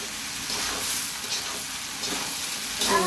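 Rice frying in a pan, a close, steady hiss and sizzle running unbroken for a few seconds with faint stirring scrapes.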